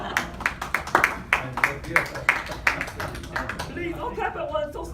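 Scattered claps from an audience member at a live magic show, a dozen or so sharp, uneven slaps close by that trail off, with a voice speaking over and after them.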